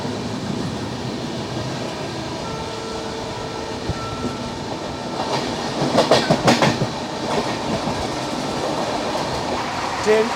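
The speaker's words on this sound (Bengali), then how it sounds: "এইমাত্র বর্ধমান জংশন ক্রস করলো ট্রেন এখন ছুটছে একশো আট কিলোমিটার গতিতে" An Indian passenger train rolling fast along the rails at about 108 km/h past Bardhaman Junction, a steady rumbling roar with rhythmic clacking that swells briefly partway through.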